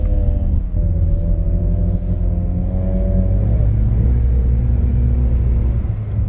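A BMW car's engine rumbles loudly up close as it drives through a snowy hairpin bend, the engine note holding steady, then dropping in pitch partway through as the car understeers through the turn.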